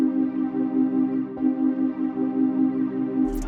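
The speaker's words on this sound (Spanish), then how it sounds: "yo lo que hice aquí fue ponerle un high cut a este pad" Muffled synth pad with a high-cut filter rounding off its top end, sustained chords swelling gently in a trap-style beat, with a brief brighter burst near the end.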